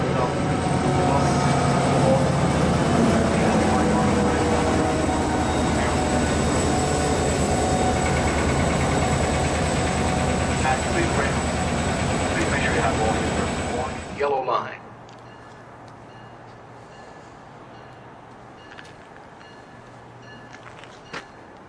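A train pulls into the Route 128 station with a loud sustained roar and rumble of rail cars for about fourteen seconds, then cuts off abruptly to quiet platform ambience.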